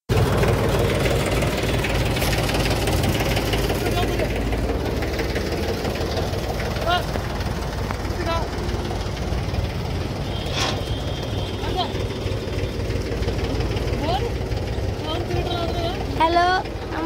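A 5 kW generator set built on a Lister engine runs steadily with a continuous low mechanical drone, close and loud, while people talk over it.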